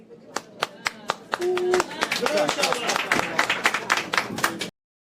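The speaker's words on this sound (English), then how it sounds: "Let's clap like seals" Audience clapping at a speech, starting as a few scattered single claps and swelling into fuller applause from a crowd, with a voice speaking over it before it cuts off.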